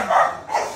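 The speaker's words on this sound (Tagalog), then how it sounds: "Ang aso ko." Dog giving two quick close barks or yips in a row, loud and short.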